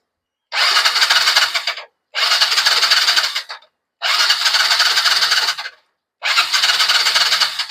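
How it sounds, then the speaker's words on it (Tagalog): A Yamaha Mio Sporty scooter with a freshly cleaned carburetor cranks without starting, four separate grinding starter bursts of about one to two seconds each, split by short silences. "Ayaw umandar kahit malakas ang kuryente."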